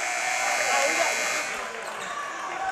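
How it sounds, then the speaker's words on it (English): At a community college basketball game between ELAC and Santa Monica, the scoring table sounds its buzzer for a substitution. The loud, sustained electronic tone lasts about a second and a half over crowd murmur and a commentator's voice. "with the buzzer being rung by the scoring table"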